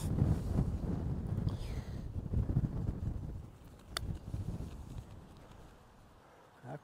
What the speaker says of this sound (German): Es ist sehr windig, ich falle hier schon fast durch den Wind um.